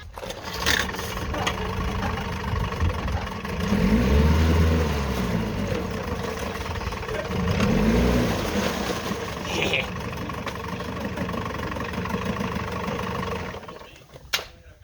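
A boat's outboard motor starts up and idles, a mid-pitched engine hum with two louder surging pulses early on, running steadily close by before cutting out near the end.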